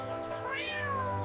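A thirsty cat gives one drawn-out meow with a rising then falling pitch, close and clear over a low steady background hum.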